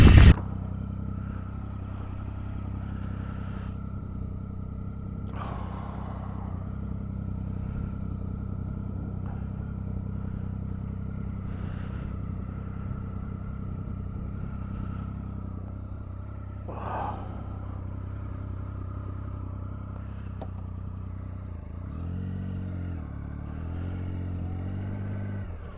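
A KTM Super Duke R motorcycle engine drones steadily throughout, with a low idle-like hum, a few faint clatters along the way and a slight rev near the end.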